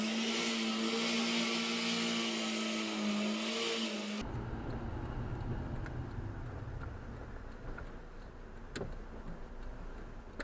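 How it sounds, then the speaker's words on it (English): A car spinning its wheels from a standstill with the engine revving hard, recorded from a dash cam in Bristol; a loud, steady high-pitched roar for about four seconds, then cutting to a lower rumbling drive with faint ticks. "that's an angry wheel spin, isn't it?"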